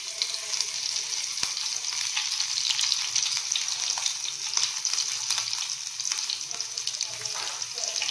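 Green chilies frying in hot oil in a cooking pot while preparing Maggi noodles, a steady close hiss and crackle of oil running throughout with faint clinks, no talking.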